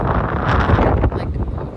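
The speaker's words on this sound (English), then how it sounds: "It's so windy today." Steady buffeting wind roars across the microphone, a dense rumbling gust with a brief dip near the end, loud and close.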